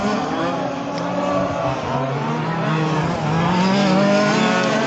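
Quarter-scale on-road RC race cars run a speedway main event, high-pitched small engines whining and shifting pitch continuously as cars lap nearby, with a steady drone of several motors at once.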